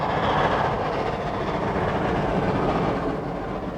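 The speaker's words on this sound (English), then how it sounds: "This train is going to the top, so it will need the power of 2 locomotives." Train on the Cass Scenic Railroad, heading up the mountain behind two locomotives, gives a steady, loud rumble with continuous rolling rail noise and no clear breaks, close and filling the scene.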